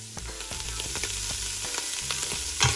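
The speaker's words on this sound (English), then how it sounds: "As you can see, these sausages are starting to brown up." Sausages browning in a pan for red beans and rice, stirred now and then: a steady, close sizzle with scattered scraping clicks and a brief louder burst near the end, no talking.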